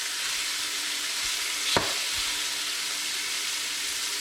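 Cleaned razor clams fry in a little oil, giving a steady close sizzle and hiss, with a single sharp tick of a utensil partway through.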